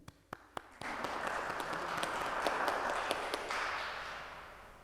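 A few sharp isolated claps open into sustained applause from a Mass congregation in a parish church, a dense, even patter that holds for several seconds and slowly fades.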